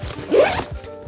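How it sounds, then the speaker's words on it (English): An inner compression zipper on a full-size travel bag is zipped in one quick, close rasping pull, steady and distinct, with no voices over it. "So you can zip the inside zipper and compress it down."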